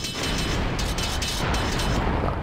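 Game cannon fire from a city-building strategy game set around 1602, a dense continuous rumbling boom that fills the short stretch at steady loudness, with no talking over it.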